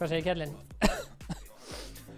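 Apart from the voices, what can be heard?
person coughing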